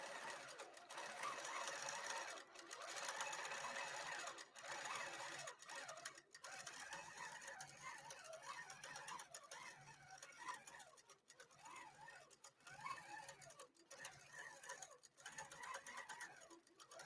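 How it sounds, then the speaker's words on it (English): A sewing machine stitches fabric in a continuous, busy mechanical whir with quick periodic clicks throughout, close and steady, with no talking. "And now we're going to hit sew."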